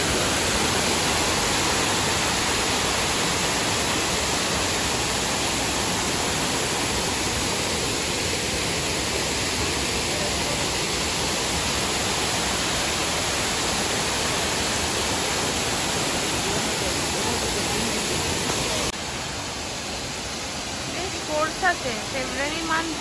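A waterfall in a forest nature camp in Keonjhar, Odisha, running full in February, gives a steady, dense rushing roar throughout. It thins near the end, where a few faint, brief sounds appear.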